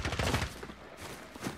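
Gunfire in a video game, a quick cluster of loud close shots at the start, then a lull and a short further burst near the end.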